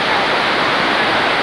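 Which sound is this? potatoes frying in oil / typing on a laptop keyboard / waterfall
waterfall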